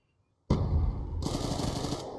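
After a brief silence, a rapid burst of gunfire in the video game Black Ops 2 multiplayer erupts and continues loudly as sustained automatic shooting with a harsh, crackling edge.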